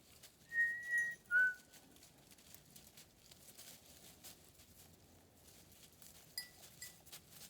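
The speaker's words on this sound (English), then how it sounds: "Sometimes they'll want to come over when you whistle, but the whistle travels a lot further." Person in the woods whistling to call goats: two short, clear whistled notes, then a faint brief whistle later, over quiet outdoor rustling and footsteps.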